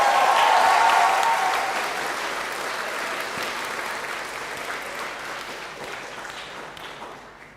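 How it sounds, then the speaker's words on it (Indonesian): Lecture hall audience at a public lecture on Indonesian diplomacy for Palestine gives loud, sustained applause that gradually fades over several seconds, with a few whistles at the start. "Kami sambut dengan tepuk tangan yang meriah"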